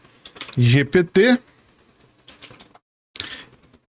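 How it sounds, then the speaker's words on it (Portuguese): Quick bursts of clicking keystrokes on a computer keyboard as a word is typed into a browser, short clustered taps close by, with a voice speaking before the typing. "Eu vou digitar aqui ChatGPT."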